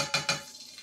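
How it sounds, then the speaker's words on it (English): Bacon grease heats in a hot pan while crispy keto hash browns are being made, giving two short loud sizzling bursts that quickly fade into a quieter crackle. "hear that? That's the sizzle"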